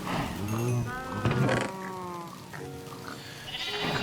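Sheep bleat repeatedly in Minecraft, several wavering calls overlapping one another, fairly close and clear with no one talking.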